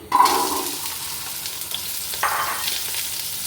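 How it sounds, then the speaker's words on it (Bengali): Kabuli chickpeas hit a hot pot of oil for Afghan kabuli pulao, erupting into a loud, steady sizzle that holds through the clip, with a brief stir partway through. "কাবুলি ছোলা দিয়ে দিচ্ছি"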